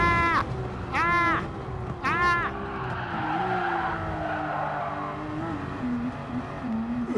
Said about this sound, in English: just driving along in a Porsche 911